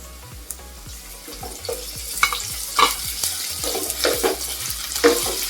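Chilies and ginger-garlic paste sautéing with onion in a pan for an egg biryani: a steady sizzle with repeated scraping stirs of a spoon against the pan, close and alone.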